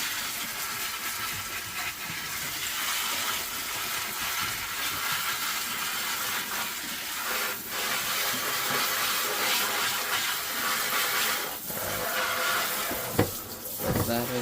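Steady running water from a tap rinsing lint off a GE Profile washer dryer combo drain filter, a continuous dense splashing wash with a few brief clunks near the end.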